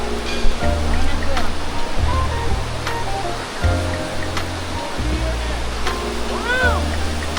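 Water pours steadily down a waterfall at Las Grutas de Tolantongo, a dense, continuous rush filling the scene, with people talking and calling out over it.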